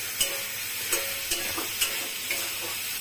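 Lentil dumplings and eggplant fry with gima greens in a pan, a steady sizzle broken by about five light scraping stirs spaced evenly, close up with no voices.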